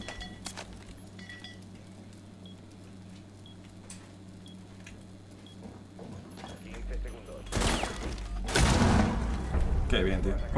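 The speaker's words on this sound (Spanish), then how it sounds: "Cerquita la explosión." In a Rainbow Six Siege match, quiet in-game ambience gives way to a loud explosion followed by booming, crackling bursts of blast and gunfire near the end, with faint voices underneath.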